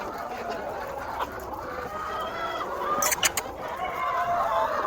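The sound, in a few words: chickens and roosters clucking on a farm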